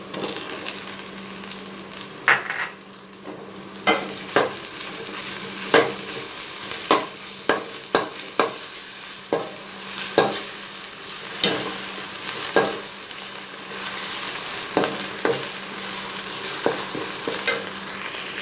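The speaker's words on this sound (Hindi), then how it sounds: "प्याज अभी लाइट से गोल्डन हुआ है तो हम इनके अंदर जो है अदरक लहसुन का पेस्ट डाल देंगे।" Onions and ginger garlic paste fry in a karahi, a soft sizzle broken by a string of sharp scraping and clinking stirring strokes at an uneven pace, close by and without speech.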